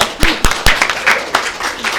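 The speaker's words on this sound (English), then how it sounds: "Let's give each other applause." A small group of candidates and organizers at a League of Women Voters primary candidate forum clap briefly, scattered and uneven hand claps close by over a couple of seconds.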